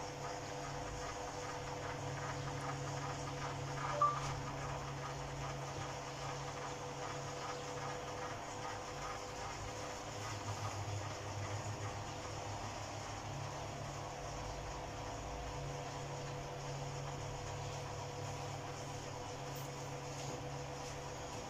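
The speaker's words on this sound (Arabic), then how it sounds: "طبعا موتور الشواية لو صد بيرد تاني ويرجع لوحده" A grill rotisserie motor drives a chain mechanism for an egg incubator, giving a steady low mechanical hum with a faint even whir, quiet and continuous with a single small click.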